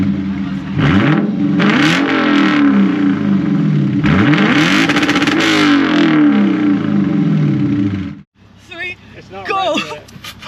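A Lexus IS F's V8 engine revs hard several times, each pull rising in pitch and dropping back, loud and close, then cuts to quieter speech at the end.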